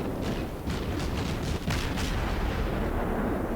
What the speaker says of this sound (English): look at this barrage of fire going on here.